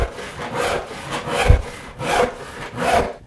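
A hand saw cuts through wood in steady back-and-forth strokes, about four rasping passes, loud and close with no talking.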